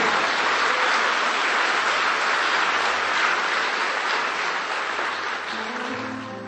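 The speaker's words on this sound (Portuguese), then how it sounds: "Se esse aplauso é para Jesus, que seja mais forte" A church congregation at a Sunday service applauds loudly and continuously, a dense crowd of clapping that holds steady before easing slightly at the end.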